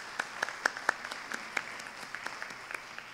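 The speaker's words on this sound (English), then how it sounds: "Another round of applause for Brinda Auntie." An audience applauds after a talk on higher education and heart disease, with faint, scattered handclaps from a small group that trail off into sparse individual claps.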